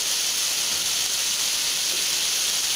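Beetroot and carrot vegetables cooking in a pan on a high flame give off a steady, even hiss and sizzle, close and unbroken, with no voices.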